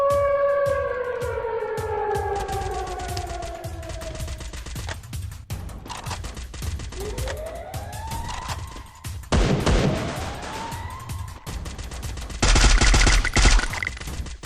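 Gunfire in the mobile shooter Free Fire: bursts of shots crack over game music and descending tonal sweeps, with a dense, loud barrage near the end.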